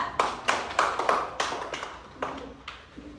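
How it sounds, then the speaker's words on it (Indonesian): A classroom of primary school children claps for a presenting group: a brisk run of close, loud hand claps in a loose rhythm, thinning out toward the end, with no talking over it. "Tepuk tangan dulu untuk kelompok 3."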